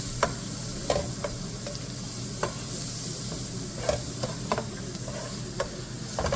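Onions stirred in a pan while a spoon scrapes burnt bits off the bottom; a steady sizzle runs throughout, broken by irregular sharp scrapes and clicks of the utensil against the pan.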